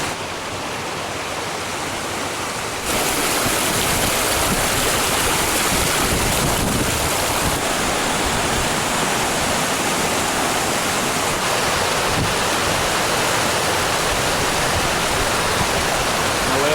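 Shallow mountain stream on a hiking trail, rushing and babbling steadily and close by as a continuous broadband wash of water with some wind noise, no talking.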